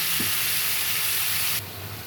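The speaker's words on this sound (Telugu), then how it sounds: "టమాటా ముక్కలు కూడా వేసుకున్నాం" Tomato pieces hiss and sizzle loudly in a kadai that has just been used to fry green chillies, a steady close crackle that drops noticeably quieter partway through.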